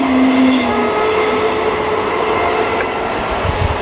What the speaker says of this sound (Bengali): ট্রেন যাচ্ছে দেখো।